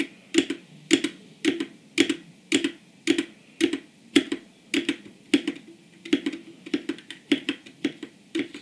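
Keys and space bar pressed on a broken computer keyboard, a steady run of about sixteen sharp plastic clacks roughly twice per second, close and isolated with silent gaps between presses.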